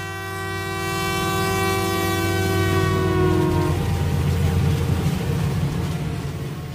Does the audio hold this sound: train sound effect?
yes